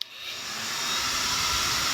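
A hair dryer blows steadily, a loud breathy rush of air that starts abruptly and holds at an even level.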